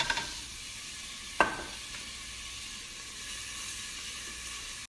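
Onion and garlic fry in a heated pot, giving a steady, faint sizzling hiss with one brief utensil knock early on and no talk.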